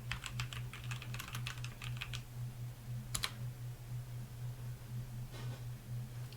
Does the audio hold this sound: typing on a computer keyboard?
yes